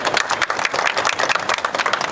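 A film event audience breaks into dense, continuous applause, loud and even throughout with no talking over it.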